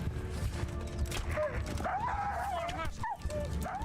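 A dog whimpers and yips with rising, wavering whines amid game sounds and speech in the medieval role-playing game Kingdom Come: Deliverance, the cries steady and fairly close.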